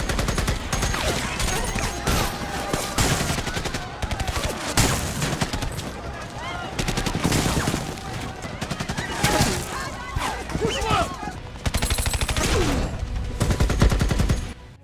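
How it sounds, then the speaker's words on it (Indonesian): Rapid bursts of gunfire crackle and pop in dense volleys, with machine-gun rattles and scattered single shots, loud and continuous throughout. "Akhirnya dari sini tembak-menembak pun tidak bisa dihindari."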